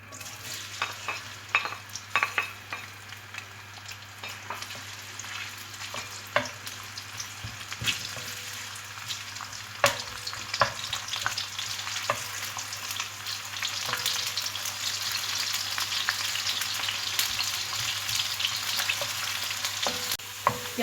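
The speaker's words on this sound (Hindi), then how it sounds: "अब इसमें मैं प्याज ब्राउन करूँगी।" Onions browning in about one and a half cups of oil in a wok for dhaba-style mash dal, a continuous hissing sizzle that grows fuller over time, with occasional clinks and scrapes of stirring.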